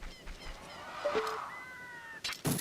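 A cat meows in an Ocarina of Time mod, a few short mewing calls among faint game sounds, fairly quiet, with no one speaking.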